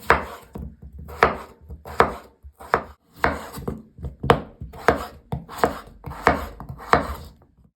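A knife chops small potatoes on a board in a steady series of about a dozen close, crisp knocks, each followed by a short pause, with no talking.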